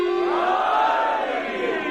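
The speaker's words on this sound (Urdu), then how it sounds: "سارے مل کے نعرے حیدری۔" A crowd at a religious gathering shouting the slogan Haidri in unison, a loud sustained collective chant from many voices rising and holding before easing slightly.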